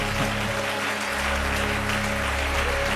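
A church congregation claps steadily for several seconds, a dense, continuous wash of applause with a low rumble beneath it and no pause.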